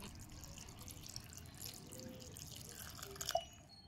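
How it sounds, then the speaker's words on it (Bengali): Potatoes being rinsed in water in a kitchen, with soft dripping and gentle sloshing close by, faint and continuous with a brief splashier burst near the end. "এবার এই আলুটাকে খুব ভালো করে ধুয়ে নিতে হবে। জল পাল্টে পাল্টে অন্তত 3 থেকে 4 বার ধুয়ে নিতে হবে।"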